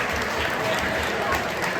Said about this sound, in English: I really want to give them a round of applause.